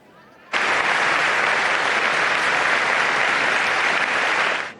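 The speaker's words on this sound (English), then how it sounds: "They say when they clap at the beginning, it doesn't matter much." An audience of journalists bursts into loud, sustained applause for Pope Leo at the start of his speech, beginning abruptly after a quiet moment and holding steady until it fades at the very end.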